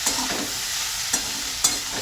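Vegetables with fresh cabbage stalks, seasoned with salt and turmeric, frying for a Bengali chorchori in a pan, giving a steady soft sizzle with a few brief stirring scrapes, close and alone with no voices.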